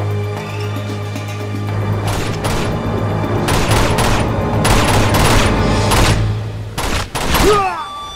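Dense bursts of gunfire from the Uncharted 2: Among Thieves train chapter, with repeated volleys and shots cracking over a steady low rumble of background game sound for several seconds, ending in a sharp whistling ricochet-like sweep.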